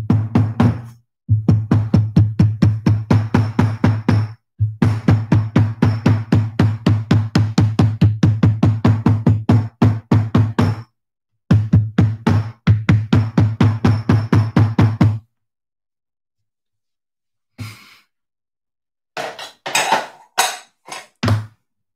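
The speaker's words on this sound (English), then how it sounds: "I'm going to hammer for a sec," Rapid, steady hammer blows strike boot leather in long runs, pausing briefly between sets, then a few scattered sharper taps at the end.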